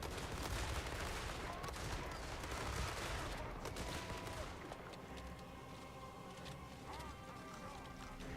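Battlefield gunfire and artillery volleys from the strategy game Total War: Warhammer 3 crackle densely and continuously, with repeated sharp reports over a busy combat din that thins slightly toward the end.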